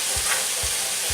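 Loud, steady sizzling from lamb curry frying in a hot pan as chopped ingredients are tipped in with the lamb chops, a dense hiss close up with a few soft low thumps and no talking.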